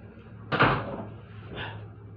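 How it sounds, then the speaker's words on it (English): Door swung shut with a single sharp thud, followed by a softer knock a second later as it settles, heard close in a quiet room. "I'm closing my door."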